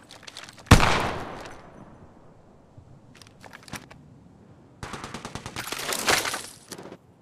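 Automatic weapon fire in Apex Legends Mobile, a sharp loud burst early on followed by scattered shots and then a longer sustained rattling volley, with no talk over it.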